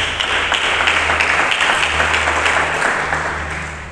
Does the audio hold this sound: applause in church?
yes